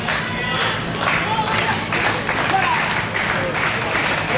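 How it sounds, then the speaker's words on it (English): Wrestling crowd at an AWF High Voltage show cheering and clapping for Alissa, a steady roar of applause with scattered thuds, under ongoing commentary. "Crowd getting behind Alissa."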